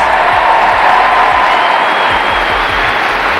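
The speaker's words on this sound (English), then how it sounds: "The arena erupted, with fans rising to their feet, applauding" An arena crowd applauds steadily and loudly at a jersey retirement ceremony, dense clapping with a cheering roar that holds throughout.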